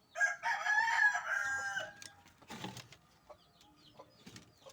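Chickens in a backyard, a rooster crowing loudly and close, followed by softer clucking and scattered bird calls, with no talking.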